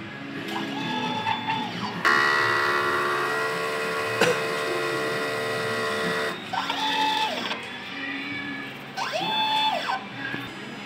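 A printer runs its print head cleaning cycle, a steady mechanical whir with rising and falling motor sweeps and a louder grinding stretch in the middle, close and continuous with no talk.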